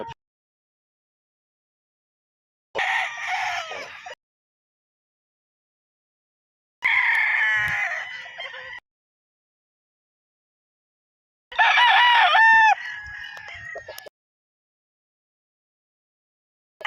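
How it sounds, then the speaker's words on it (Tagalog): Gamefowl roosters at a game farm crow three separate times, each call a bright, drawn-out cry standing alone against silence, spaced a few seconds apart. "ang daming manok"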